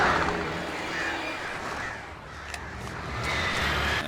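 Crows caw in Alan Wake Remastered, repeated harsh calls scattered over a steady noisy outdoor wash, moderately loud and at mid distance, with no talking.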